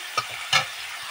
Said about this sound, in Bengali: তার মধ্যে দিয়ে দিচ্ছি এই যে টমেটো কুচি, এগুলো সব কিছু একটুখানি ভালো মতন কষিয়ে নিই।